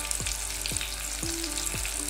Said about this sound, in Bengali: মাছ ভাজা বসালাম